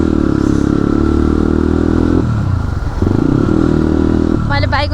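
A motorcycle engine runs steadily at close range during a ride in traffic, with a shift in pitch partway through and a brief clattering rise near the end; a voice talks over it.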